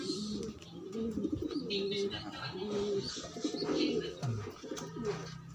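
Pigeons coo repeatedly close by in low, throaty rolling calls, overlapping one another, with light chirps and background noise.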